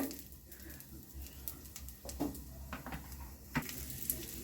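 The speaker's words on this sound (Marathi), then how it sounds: "हे बघा मी आता हे खोबरं भाजून घेते" Dry coconut roasting in a pan for a chicken gravy masala, a soft low sizzle with occasional scraping and stirring knocks from a spoon against the pan, close by and without talk.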